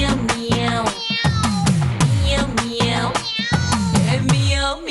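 Voices imitate a cat's meow in rhythm as part of a lively Tamil song, repeated sung meows over dense music with steady beats, loud and continuous.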